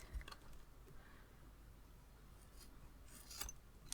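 Scissors snipping through paracord at close range, a faint scraping cut with a couple of sharp clicks near the end, in a quiet room.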